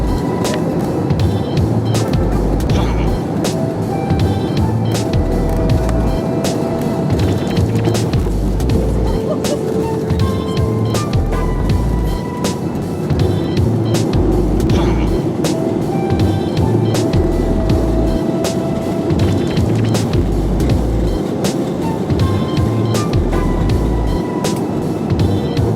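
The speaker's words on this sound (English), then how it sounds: "Back in New Jersey, we're landing at Atlantic City Airport." Inside an airliner landing at Atlantic City Airport in New Jersey, a loud, steady roar of engines and rushing air fills the cabin without a break, with faint tonal whines layered over the rumble.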